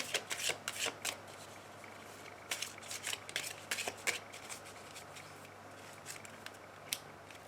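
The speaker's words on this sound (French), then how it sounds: "Je vais prendre deux petits messages pour terminer mon tirage avec l'oracle des amoureux." A deck of oracle cards used for a tarot-style love reading is shuffled in quick bursts of crisp riffling and flicking, loudest in the first half, then trailing off into sparse, softer flutters.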